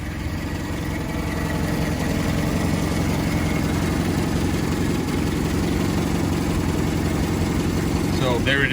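A warm 1.8L 2Y engine in a 1991 Toyota Hilux YN80 one-ton pickup idles steadily and close by, a smooth even low rumble throughout, with a faint click near the end.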